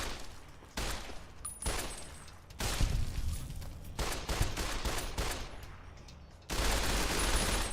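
Gunfire from firearms in the game Fallout New Vegas, with repeated bursts of rapid shots and heavy impacts coming in loud, dense clusters separated by brief lulls.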